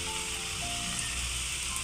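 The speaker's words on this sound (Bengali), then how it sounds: "কম করে দিয়ে পরে বড়াগুলোকে আমি ভেজে নেব।" Parwal koftas frying in oil on a low flame, a dense steady sizzle close up with faint hum underneath and no voices.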